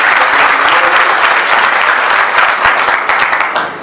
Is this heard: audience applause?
yes